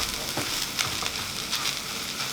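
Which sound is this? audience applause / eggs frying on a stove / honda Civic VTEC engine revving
eggs frying on a stove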